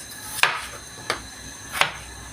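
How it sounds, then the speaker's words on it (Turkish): Knife chopping potatoes into cubes on a cutting board for a fried chicken liver dish, three sharp separate chops spaced unevenly, close and fairly crisp, no talking. "Bunları kare kare doğrayacağız."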